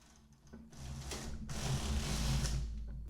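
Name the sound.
knitting machine knitting a row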